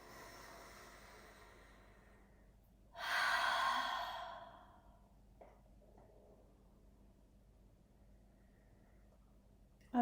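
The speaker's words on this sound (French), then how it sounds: "J'expire par la bouche." A long audible exhale through the mouth during yoga breathing, a soft breathy rush lasting about a second and fading out against quiet room tone.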